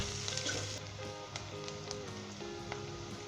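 Onions sizzling in oil while cooking toward light golden brown for a Punjabi pumpkin curry, a steady close frying hiss with faint stirring clinks, no voices.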